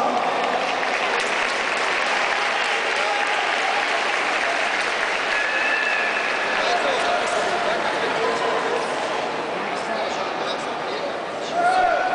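Long, steady applause from a large concert audience at a singing event, dense continuous clapping that holds for several seconds and swells slightly near the end.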